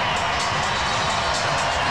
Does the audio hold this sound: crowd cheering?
yes